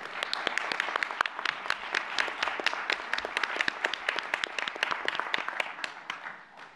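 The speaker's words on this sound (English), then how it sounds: "we'd love to give you a round of applause." An audience at a school board meeting gives a round of applause for standing Boy Scouts, with crisp, individual claps ringing out in a lively, moderately close burst that tapers toward the end.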